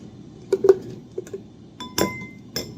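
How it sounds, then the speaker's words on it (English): A spoon scraping and clinking against a glass jar to empty out leftover mayonnaise, a few sharp separate taps and scrapes with quiet gaps between. "There's not a lot of mayo left in this jar, so we're just gonna empty it out"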